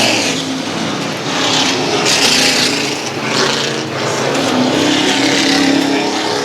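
Late model race cars roar around an oval speedway before a 50-lap main event, a dense, steady engine drone with swells as the pack passes, heard from the stands without speech.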